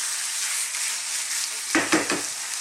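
Chicken pieces sizzle steadily in a hot pan for a chicken and chickpea curry, then a few sharp scrapes and clatters sound as the pieces are stirred and tossed near the end.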